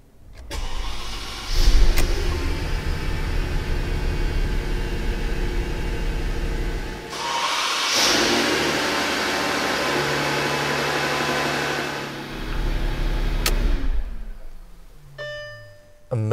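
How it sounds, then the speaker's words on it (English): A Maybach 57S coupe's 6-liter V12 cranks and fires with a surge, settles into a smooth idle, revs up once, then quiets; soft electronic chimes sound near the end. "So let's start the engine. This is a V12 6-liter"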